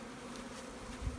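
Honeybees from overwintered nucleus colonies hum steadily around their hives, a soft continuous buzz held close throughout, with a brief low bump near the end.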